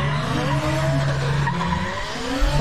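A BMW drift car skids through a qualifying run at a drift competition, its tires hissing in a sustained slide over a droning, strained engine note, loud and continuous for a few seconds.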